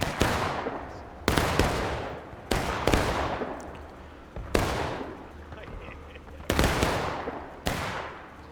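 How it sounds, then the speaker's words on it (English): Musket volleys crack repeatedly in a Civil War battle in the video game War of Rights, with about seven loud sharp reports spaced a second or so apart, each trailing off in a long echoing decay. "Seems like he is putting fire onto them now."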